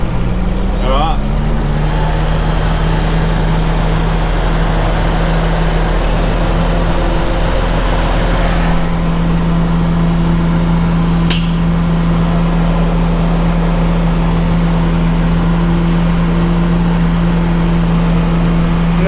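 Ex-army fire truck's pump engine revved and held at a loud, steady drone, rising briefly at the start, with a short sharp hiss partway through.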